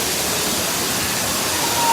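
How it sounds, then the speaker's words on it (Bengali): Heavy rain pours steadily at Shuptodhara waterfall in the monsoon, a dense, even hiss that fills the whole moment without a break, growing slightly louder near the end, with no voices. "প্রচুর বৃষ্টি পড়তেছে এখন।"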